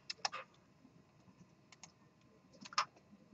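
Quiet clicking of a computer keyboard as a few short bursts of keystrokes, close and faint, with pauses between them and no one talking.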